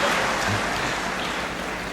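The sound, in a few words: applause at graduation ceremony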